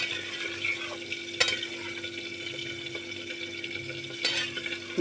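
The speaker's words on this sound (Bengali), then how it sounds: "আমি দুধটা অ্যাড করে দেবো এক কাপ দুধ দিয়েছি আমি দুধটা দিয়েও নেড়ে দেবো" A spoon scrapes and stirs through shukto vegetables in a pan after a cup of milk is added, soft scraping over a faint simmer with two sharp clinks against the pan.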